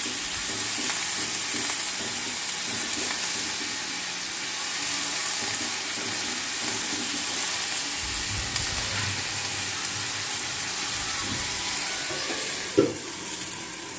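Leafy vegetable greens fry and sizzle steadily in a pan with no water added, a continuous close hiss with occasional soft stirring knocks and one sharp clink near the end.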